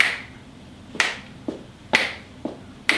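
An audience at a live music performance snaps their fingers in time, five crisp, sharp clicks about half a second apart, fairly close and clear over a quiet background.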